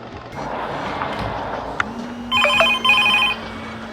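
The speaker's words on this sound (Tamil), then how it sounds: "ஃபோன் அடிக்கிறாங்க." A mobile phone rings amid street noise during a bike taxi ride, giving two short bursts of repeated bright electronic tones over a steady low hum.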